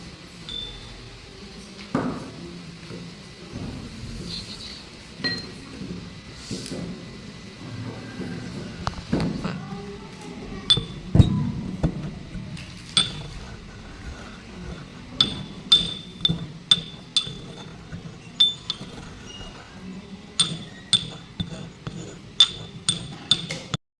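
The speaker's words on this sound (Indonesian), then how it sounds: "satunya lagi kita gerus sampai menjadi serbuk dengan menggunakan lumpang atau alu" A solid is ground to powder with a mortar and pestle for a chemistry experiment, sounding as close, irregular clinks and taps that grow into a quicker series of sharp ringing knocks, alone without talk.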